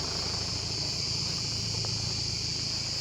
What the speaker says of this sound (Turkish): Şuna bak cır cır böcek lan sesine bak